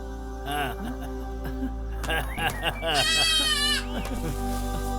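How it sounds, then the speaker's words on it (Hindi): A young goat kid bleats several times at close range, its wavering cries rising and falling over a steady background hum, with people talking around it. "वो बकरी की बच्ची जिंदा हो गई।"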